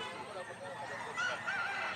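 Rooster at a Sunday pet market, a large eight-to-nine-month-old Kelso bird, sounds two short bright crowing calls late in the clip over a steady market hum while someone talks nearby.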